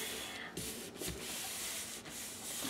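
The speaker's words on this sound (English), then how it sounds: "I'm going to flip this over and I'm going to give this a good rub down" A glued sheet for an album page rubbed down by hand to smooth it: a close, continuous dry rubbing swish with brief pauses between strokes.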